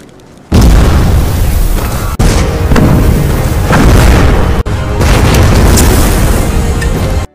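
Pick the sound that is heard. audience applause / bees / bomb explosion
bomb explosion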